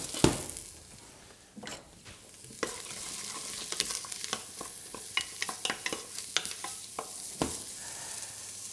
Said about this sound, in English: Now, into the shallots, a handful of mushrooms, and then back on a high heat, and we're going to get that cooked right down and caramelized.